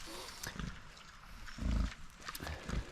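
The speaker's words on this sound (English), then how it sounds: "They're quite angry pigs, quite feisty." Feisty pigs squabble over carrots in a small Scottish village, giving low grunts and a few louder bursts of squealing and snorting at close range.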